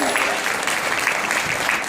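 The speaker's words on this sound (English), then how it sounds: "Clap for yourself." Children clap for themselves in a dense, steady patter of applause lasting about two seconds, with lively voices mixed in at a Jamaican-style children's performance.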